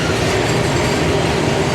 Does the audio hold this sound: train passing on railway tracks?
yes